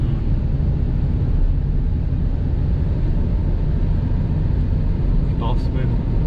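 A 2014 Hyundai i20 Sportz cruising in fifth gear, heard from inside the cabin as a steady, loud low engine and road drone with no breaks, while people talk over it.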